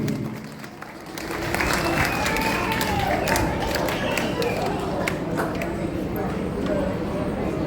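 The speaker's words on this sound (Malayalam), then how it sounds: "ഒരു നല്ല കൈയടി" Sustained applause from an audience, a dense wash of clapping that swells after a quieter opening and carries on steadily.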